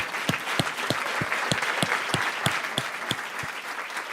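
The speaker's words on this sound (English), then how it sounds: "giving another round of applause to Tiziana Deering and to Professor Gates." Gala guests at the 2024 WBUR event applaud Tiziana Deering and Professor Henry Louis Gates, Jr. Steady crowd applause is punctuated by loud, close, evenly spaced individual claps roughly three times per second, continuing unbroken to the end.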